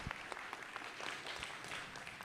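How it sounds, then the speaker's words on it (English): Polite audience applause for panelists at the ASEAN Circular Economy Forum 2025, soft and distant scattered clapping sustained through the clip. "give a round of applause to our"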